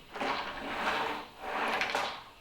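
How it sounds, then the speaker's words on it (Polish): A shower cabin's sliding door is pushed along its newly adjusted rollers twice, each pass a smooth rolling rumble that swells and fades, close and clear with no speech. "po regulacji sprawdzą ponownie, jak się zamykają drzwi"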